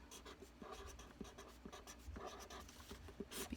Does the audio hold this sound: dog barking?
no